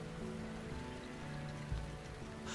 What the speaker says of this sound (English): Oh, come on, stop raining.